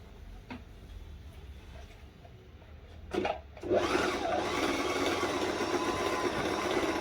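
A brand-new Singer automatic sewing machine stitching a zipper seam, starting up partway through with a steady, close mechanical whir that runs continuously after a brief quiet stretch with a few small clicks.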